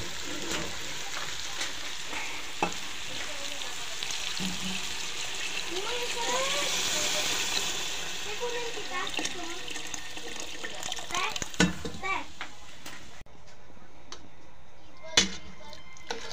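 Beef broth pours into pinapaitan simmering in a pan, a steady watery rush and splash running for most of the stretch and easing off near the end, with a few faint knocks.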